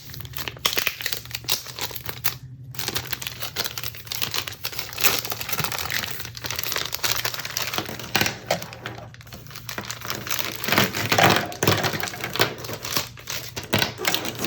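Paper instructions from a Crayola Marker Mixer box are unfolded and handled, giving steady close crinkling and rustling with sharp crackles throughout and no talk.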